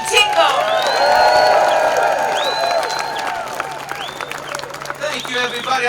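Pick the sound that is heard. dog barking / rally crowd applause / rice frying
rally crowd applause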